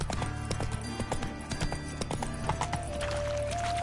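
Roach, the horse in Witcher 3, galloping with a quick, rhythmic clip-clop of hooves over a steady low background, close and continuous throughout.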